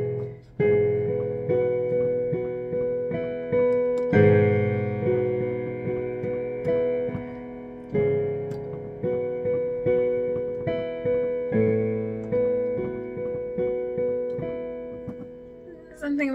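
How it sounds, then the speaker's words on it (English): Piano chords from the chorus of a song ring out in a slow, steady progression, each chord struck clearly and left to decay before the next, played alone and close. "The chorus is still easy to play on piano, but it's slightly more complicated"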